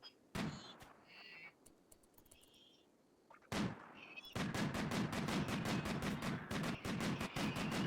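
RimWorld gunfire during a shooting practice, with a few isolated shots followed by a rapid steady burst of repeated automatic fire, loud and close.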